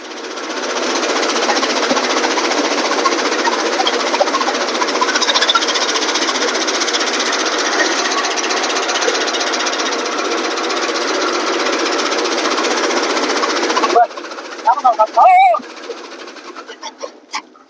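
A chaff cutter (kutti) machine chopping fodder gives a loud, continuous mechanical clatter that stops abruptly near the end, leaving a few brief knocks and clunks.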